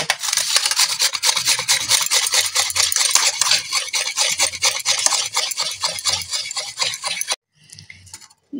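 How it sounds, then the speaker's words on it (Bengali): Beetroot rubbed hard against a hand grater, a steady, rapid rasping that goes on for about seven seconds, then stops with a brief quiet scrape at the end. "এবারে এই বিটটাকে আমি গ্রেট করে নেব।"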